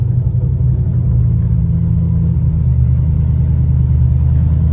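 Car exhaust after a muffler delete, a loud, deep, steady low rumble from close by that holds through the clip without talking.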